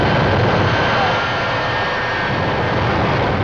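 A 1984 Peterbilt truck powered by two Westinghouse J34 jet engines roars with a loud, steady, close jet-turbine howl at a drag racing event, with a voice faintly heard under the engine noise.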